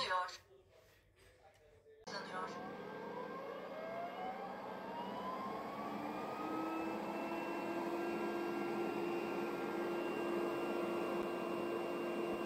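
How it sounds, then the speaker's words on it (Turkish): A laser robot vacuum cleaner switches on and runs, starting quietly, then settling into a steady whirring motor drone with a rising whine that levels off and continues. "Süpürgemiz çalışıyor."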